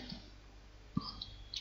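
A computer mouse gives a single sharp click in a quiet room, with faint ticks around it.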